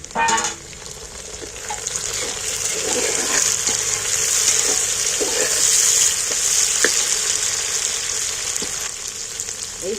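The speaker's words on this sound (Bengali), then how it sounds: "এবার আমি টমেটো দুটো টমেটো দিচ্ছি টমেটো কাটা দুটো দিয়ে দিচ্ছি" Browned onions and two chopped tomatoes fry for a wedding-style meat curry, a steady close sizzle with scattered spatula scrapes and light clinks throughout.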